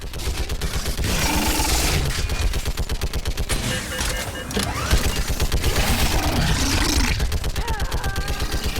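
Sustained automatic gunfire in the Mass Effect 3 battle on Thessia, loud and continuous with rapid rhythmic bursts throughout, mixed with mechanical whirs and game effects.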